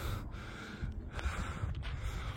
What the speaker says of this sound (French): Je suis un peu essoufflé car je dois me dépêcher avant que ça ferme.